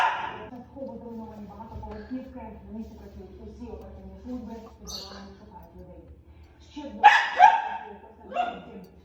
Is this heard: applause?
no